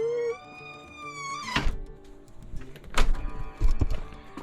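A barn door bangs shut in the wind with a few loud, hollow thunks and rattles, close by, after a brief whistling tone, with no voices.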